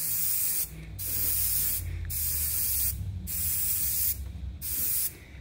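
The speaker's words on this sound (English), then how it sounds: "Just mist it on. As I said, this is pretty thin mix." Airbrush misting a thin paint mix onto model 16-ton mineral wagons on a garden railway, a steady close hiss broken by several brief pauses between bursts.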